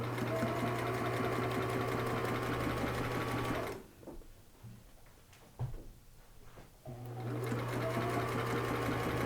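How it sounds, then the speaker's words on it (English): A sewing machine runs steadily while stitching along the edge of turban fabric, stops for about three seconds of quiet handling noises, then starts again with the same close, even mechanical hum. "we don't stretch this one, we just sew"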